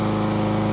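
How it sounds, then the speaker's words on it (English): A push lawn mower engine runs steadily while cutting grass, droning in a close, continuous hum with a regular pulsing rhythm. "I hear pushing this lawnmower, cutting this grass."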